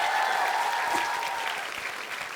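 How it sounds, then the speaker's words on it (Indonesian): A studio audience applauds on an Indonesian comedy variety show. The clapping is brief and steady, lasting about two seconds, with faint voices in the background. "tepuk tangan dulu dong"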